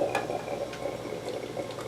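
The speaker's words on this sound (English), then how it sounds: "So now what I'm going to do is I'm going to pour the coffee in here." Freshly brewed espresso pours into two cups in a continuous close liquid stream, with faint clinks of the cups underneath and no talk.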